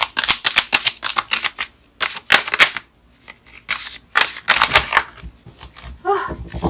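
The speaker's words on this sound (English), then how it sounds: "For some reason, I am just not shuffling very well." Tarot cards being shuffled in quick riffling bursts, close up, with short pauses between each shuffle and a soft voice near the end.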